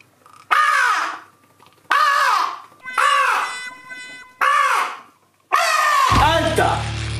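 A person imitates a crow, giving five loud, separate caws in a row, each a harsh nasal call with short pauses between them.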